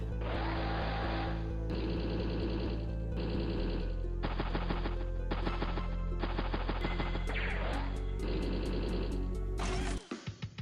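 Rapid bursts of tank gunfire in the Advance Wars: Days of Ruin video game, repeated stuttering volleys over a steady low game music bed, ending in a few sharp closing shots.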